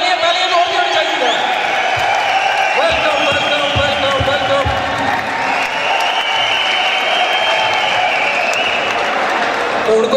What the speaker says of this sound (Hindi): तालियां तालियां तालियां